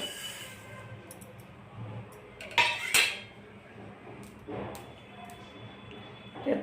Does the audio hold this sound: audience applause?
no